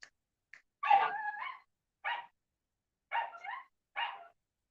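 A dog barks in short, separated bursts, some yelping and strained, spaced over a few seconds in a quiet room after fireworks have upset it.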